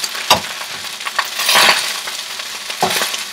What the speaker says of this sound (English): I gotta make sure this rice fries.